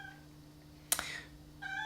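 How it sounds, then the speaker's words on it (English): A house cat lets out a short, sharp meow near the microphone, then a fainter follow-up cry, in an otherwise quiet room. "my cat's meowing at me again"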